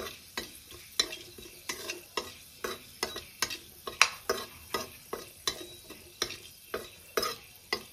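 Whole spices fry in hot oil for an Odia mustard-paste prawn masala, with a soft sizzle beneath regular, evenly spaced spatula scrapes and taps, close and moderately quiet.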